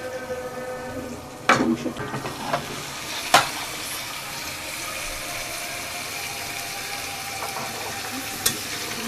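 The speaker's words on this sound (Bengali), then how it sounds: "যতক্ষণ আমি তেল না ছেড়ে দেওয়া পর্যন্ত কষাতে থাকবো" Marinated chicken stir-fried in spiced oil in a wok, a continuous close sizzle with a burst of clattering stirs near the start, a sharp clink and scattered scrapes, no talking.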